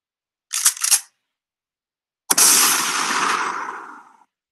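A shotgun blast rings out loudly on its own, a sharp crack followed by a long ringing decay, preceded by two quick mechanical clacks like a pump action.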